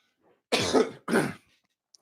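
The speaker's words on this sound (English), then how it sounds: "You don't got to hear me clear my throat." Someone clears their throat twice, in two rough, forceful bursts, close and loud, with no speech.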